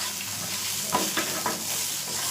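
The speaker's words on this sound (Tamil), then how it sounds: "அதையும் போட்டு நல்லா அதை வறுத்துக்கலாம்." Grated coconut roasts with spices in a pan, giving a steady dry sizzle with a few quick scraping stirs of the spoon, close and moderately loud.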